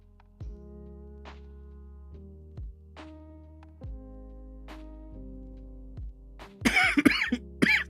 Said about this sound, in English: coughing for some reason